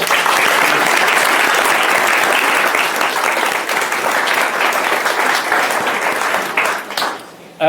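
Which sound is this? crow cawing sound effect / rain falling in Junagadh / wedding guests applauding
wedding guests applauding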